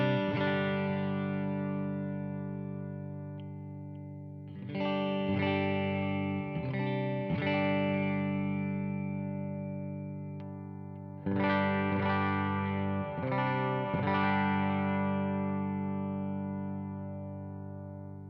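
A T-style electric guitar runs through the clean side of an Analogman King of Tone, playing sustained strummed chords that ring out with a slightly driven edge, in two phrases with decaying tails and no talking.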